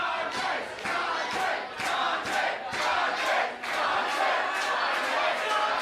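Packed pro wrestling crowd roaring loudly and continuously, with rhythmic chanting and clapping pulses rising and falling throughout.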